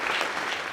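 Steady applause from an audience at an end-of-season awards dinner, a brief burst of clapping that stays even and full throughout.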